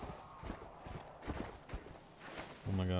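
Galloping horse hooves in the video game Red Dead Redemption, a quick series of close, rhythmic clip-clop strikes, followed at the end by a loud steady tone.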